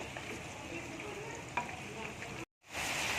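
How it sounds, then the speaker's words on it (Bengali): Potatoes frying in hot oil until browned, a steady bright sizzle with a soft stir near the middle, a brief dropout, then the sizzle returns loud and close. "আলুটা লাল করে ভেজে নেব"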